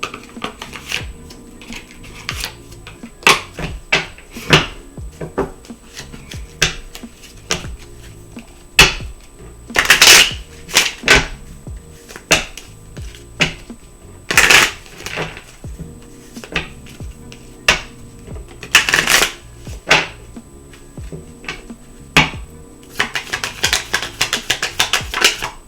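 Moonology oracle cards being shuffled, with scattered sharp riffles and flicks, louder bursts around the middle and a dense run of crisp card clicks at the end, no talking.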